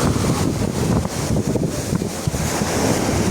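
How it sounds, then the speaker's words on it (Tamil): Strong sea waves crash on a fishing beach in gusty rainy weather, a dense steady roar of surf under heavy wind buffeting the microphone, with no voices. "சரியான அலை அடிக்குது. கடும் காற்று"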